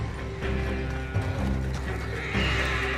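Horses from the Red Dead Redemption 2 video game whinny and neigh while hooves clip-clop beneath them, a busy mix of animal cries and hoofbeats heard at moderate volume.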